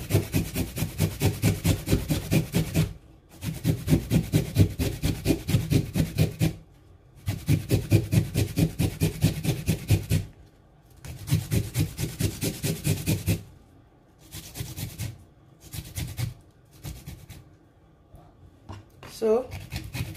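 A kola nut grated by hand against a grater, rhythmic rapid rasping strokes in bursts of several seconds separated by brief pauses, close and fairly loud, with no talk.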